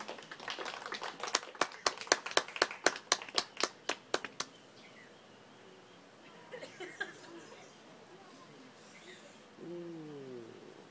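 A small audience at a Beqa firewalking show on Bounty Island, Fiji, gives a short burst of about fifteen distinct, moderately loud claps that stops after four seconds, followed by quiet ambience and a brief voice near the end.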